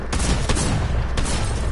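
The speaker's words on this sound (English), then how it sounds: "Oh my god, he had that shotgun." Shotgun blasts in the video game Fortnite, a few heavy booming shots in quick succession, loud and close, with no talking.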